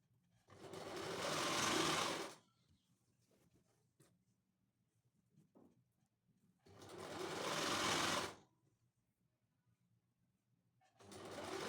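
A sewing machine stitches the folded hem of a full-sleeve princess-cut blouse in two close bursts of steady whirring, separated by quiet pauses with faint handling clicks, and a third burst begins at the end.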